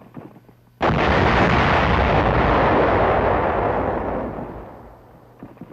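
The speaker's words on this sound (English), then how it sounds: "Resulting explosions close all but the biggest caves, leaving the Japs inside to starve." A TNT demolition charge on a fused bag blows shut a hillside cave, a sudden massive blast that roars and rumbles for several seconds before slowly fading away.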